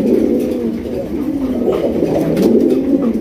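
A sky-blue Rasgolla pigeon coos loudly and close by in a room of pigeons, a low, continuous rolling coo that swells and repeats throughout.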